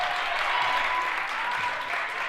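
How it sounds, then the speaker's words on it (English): Applause from the visiting crowd at a high school basketball game in a gym, a sustained wash of clapping throughout, fairly distant and even. "Making an ovation from the visiting crowd over here"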